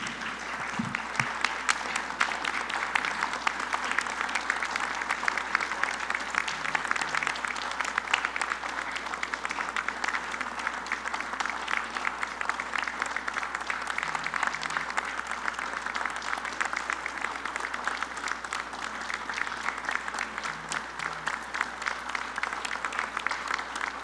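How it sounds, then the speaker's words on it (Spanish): Sustained standing applause at a weekly assembly in Mexico, a dense, steady wall of clapping from a large crowd that carries on without a break for the whole stretch, moderately distant and even. "yo les quiero pedir que pudiéramos tributarle un minuto de aplausos de pie"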